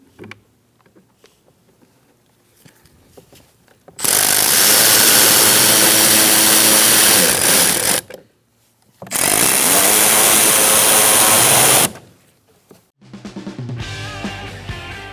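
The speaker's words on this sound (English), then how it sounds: "Now we're going to put our screws in here." Power tool driving screws into a Ford Focus door panel cover: two loud, sustained whirring bursts of about four and three seconds separated by a short gap, followed by a quieter mechanical rattle.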